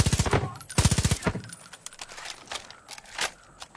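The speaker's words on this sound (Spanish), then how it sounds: "¡Están disparando!" Rapid bursts of automatic gunfire in the Far Cry video game, two loud close volleys followed by scattered fainter shots and clatter.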